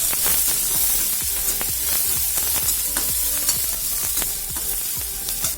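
Sliced onion strips hit a hot pan with spiced oil for veg spring roll filling and sizzle loudly and steadily, with repeated scraping stirs cutting through the crackle.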